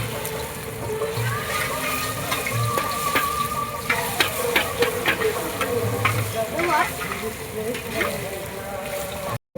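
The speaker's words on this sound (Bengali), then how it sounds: "এখন ফাইনালি পকোড়াগুলো কড়াইতে যাবে, কাঁচা চিকেনগুলো।" Raw chicken pakoras sizzling in oil in a kadai at an outdoor Christmas picnic, a steady frying hiss with scattered spatula scrapes and taps, while people talk nearby.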